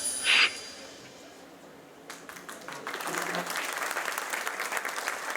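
An audience at a show starts clapping, building from scattered claps into steady, fairly loud applause that continues to the end.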